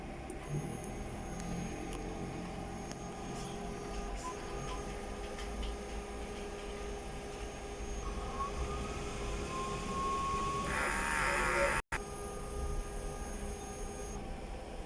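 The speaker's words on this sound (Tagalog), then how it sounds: "Ito naman po ang tamang pag-head clean" A sublimation printer runs its head-cleaning cycle, giving a continuous low mechanical whir with faint ticking and pump-like hum. The sound is moderately quiet and steady, with a brief brighter surge near the end.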